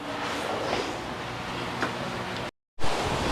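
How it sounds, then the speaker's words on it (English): Outdoor wind buffets the microphone in a steady broadband rush with a few gusty swells, cutting out briefly before resuming. "sorry about the wind"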